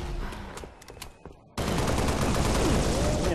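Pistol gunfire in Halo Reach, with a few sharp shots at first, then a loud, dense burst of sustained gunfire and combat noise filling the rest.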